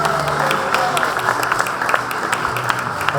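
Crowd at a rural training awards night applauds in a continuous, fairly loud spread of hand claps lasting the whole stretch, with faint voices mixed in.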